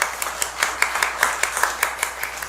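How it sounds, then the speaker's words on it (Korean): A church congregation claps in a steady rhythmic beat, about a dozen sharp, evenly spaced group claps, fairly loud and close, with no speech over them. "우리 하나님께 감사 박수 올려드리겠습니다"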